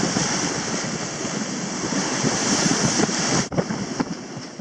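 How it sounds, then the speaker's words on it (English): Strong wind and ocean waves surge around a sailboat motoring out through a pass in western Fiji, a loud continuous roar of wind buffeting the microphone over breaking surf, with a brief dip near the end. "Wind and waves against us are making it out of the pass."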